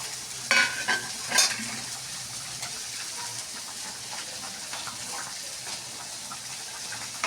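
Ghatful greens frying in a pan: a few scraping stirs and clatters early on, then a steady, moderate sizzle that continues on its own to the end.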